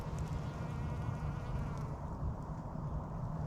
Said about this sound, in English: the bees are truly enjoying the flowers right now.